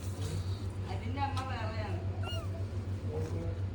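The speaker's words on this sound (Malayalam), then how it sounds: "പൂച്ചക്കുട്ടികൾ ഞങ്ങളെ കൂടെ തന്നെ ഉണ്ട് കേട്ടോ" Kittens on a small backyard farm plot in Qatar give a few thin, rising meows, mixed with people talking nearby over a steady low electrical hum.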